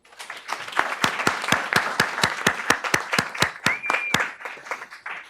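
Audience applause for school coaches at a school board meeting: steady clapping from many hands, fairly near and loud, running for about five seconds before thinning out at the end.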